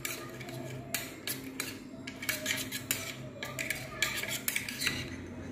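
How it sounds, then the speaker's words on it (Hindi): A spoon mixing curd into a homemade coffee body scrub in a small bowl, steady gritty scraping and light metallic clinks repeating close up at a quiet level, no talk. "ये 1 teaspoon कर्ड है, इसको हमने मिक्स करना है अच्छे तरीके से"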